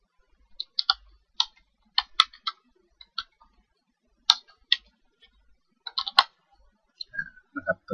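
Computer keyboard being typed on to enter text, heard as irregular, scattered, crisp clicks in short bursts with quiet gaps between them, close to the microphone and without speech.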